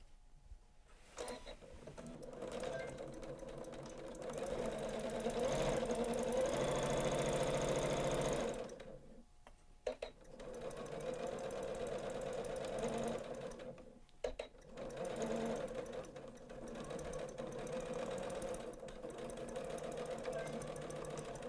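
A Janome sewing machine stitches a half-inch seam allowance down the side of a fabric bag, whirring steadily in long runs broken by short pauses, with no talk.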